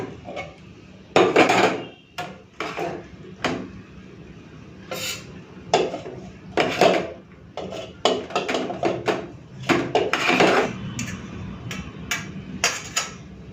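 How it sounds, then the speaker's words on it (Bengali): Metal serving utensils clatter and scrape against plates and pots as rice is dished out for a Bengali meal with parshe fish curry, okra-potato curry and bitter gourd fry, giving a run of sharp, irregular knocks up close. "এখন বেড়ে নিচ্ছি ভাত"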